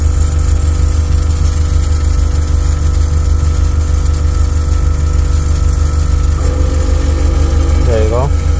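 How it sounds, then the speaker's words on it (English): Steady engine-like hum of an air suspension compressor running during an Airlift install on a Toyota GR86, continuous throughout, with a rising whine near the end. "Let's go ahead and try to connect the other compressor."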